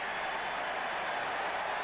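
Philadelphia baseball crowd at a Rockies–Phillies game, a steady wash of applause and cheering filling the ballpark at moderate distance, with a broadcaster's voice faintly under the noise.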